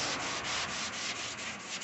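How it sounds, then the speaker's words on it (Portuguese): Dry sanding of automotive primer on a car body part during paint preparation, a steady close abrasive rubbing with rhythmic strokes repeating about every quarter second, alone with no talk. "Lixamento a seco, você vai lixar como se fosse uma massa poliéster, vai lixar ela toda por igual"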